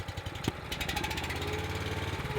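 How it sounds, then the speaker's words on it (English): A Power Split log splitter's small engine idles at low throttle, a steady close putter with a faint rhythmic thump, starting with a brief sharp knock and holding an even tone throughout. "But we'll just let it run at low throttle for a minute and warm up."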